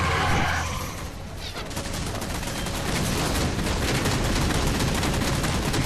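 Dense, continuous gunfire in a Halo game, heavy rapid bursts and booms filling the whole stretch at steady loudness with no talk.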